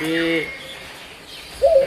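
A lone pet myna bird gives short whistled, chattering calls, one burst at the start and another near the end, fairly close, with a quieter stretch in between.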